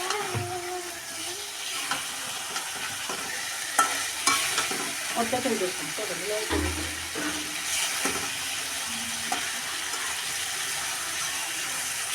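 Pieces of rohu fish are stir-fried in a small pan with spices, with a continuous sizzle, a few water splashes, and intermittent spatula scrapes and clinks against the pan.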